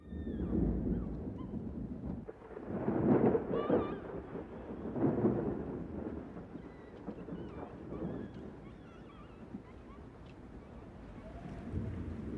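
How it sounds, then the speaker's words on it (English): Thunderstorm raging at the end of a Kiarostami film, with loud rolling thunder swelling in several heavy waves over a steady wash of rain, then settling into a softer continuous downpour. "All we get is Mr. Badi lying in his grave as a thunderstorm rages overhead"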